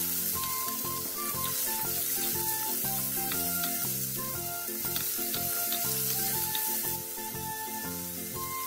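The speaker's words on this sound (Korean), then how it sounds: "채 썰어 놓았던 양파와 당근, 다진 마늘 1, 소금 3분의 1을 넣고 중불에서 볶아주세요" Potato, onion, carrot and minced garlic are stir-fried in a pan over medium heat, a steady hiss running under constant background music.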